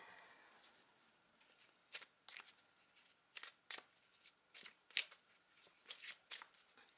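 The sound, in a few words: shuffling a Tarot de Marseille card deck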